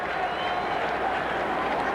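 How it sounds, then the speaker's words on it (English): A baseball stadium crowd at a 1988 American League Championship Series game between the Boston Red Sox and Oakland Athletics gives a sustained, dense roar of cheering and noise from many people, with no clear breaks. "Every pitch now draws a response from this crowd."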